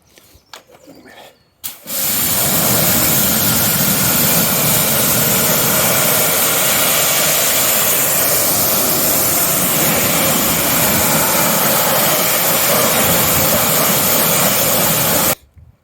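A pressure washer rinses down an alloy wheel after a fallout-remover clean, its loud, steady hiss and spray starting suddenly after a brief quiet moment and running unbroken for about thirteen seconds before cutting off.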